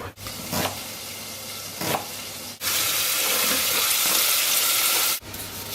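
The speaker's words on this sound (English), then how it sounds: "There goes the bacon." Award-winning pork bacon from a Fareham Growers Market producer frying in a pan. A loud burst of hissing sizzle swells midway, then cuts off abruptly, with quieter kitchen sounds before and after and no voices.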